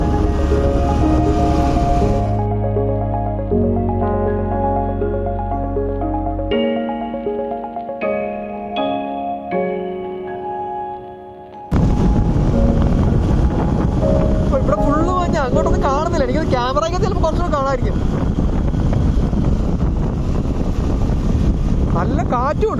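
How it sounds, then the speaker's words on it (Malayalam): Strong wind sweeps through mist-covered hills at Kuttikkanam in Idukki, Kerala, roaring and buffeting loudly against the microphone in the latter half after a stretch of steady tonal sound. "നല്ല കാറ്റും ഉണ്ട് കേട്ടോ."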